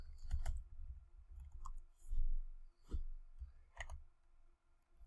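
A computer mouse clicks several times at uneven intervals while logging into a crypto wallet, sharp close clicks over a low background hum.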